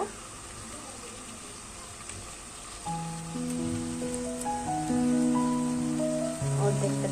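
Beef haleem with ready-made spice mix is sautéed in oil in a pan, with a steady close sizzle throughout and background music rising halfway through.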